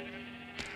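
A sheep in the Minecraft video game on PS4 gives a short, faint bleat near the end of the moment, over a steady humming game background.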